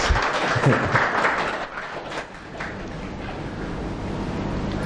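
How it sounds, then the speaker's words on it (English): An audience at a talk on the art and science of dying breaks into sustained clapping. The applause dips briefly partway through, then carries on as a steady wash. "Claps to all these masters."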